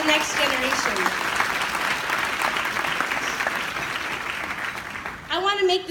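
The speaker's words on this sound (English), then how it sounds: "can we please give a round of applause for the students in this room" A luncheon audience applauds students in the room, steady broadband clapping from many hands filling the space before fading, with a voice resuming talk at the very end.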